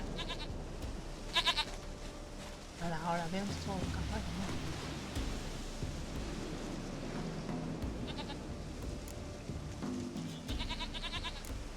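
A goat in The Witcher 3: Wild Hunt bleats several times in short wavering cries, standing out over a game soundscape while people talk through most of the scene.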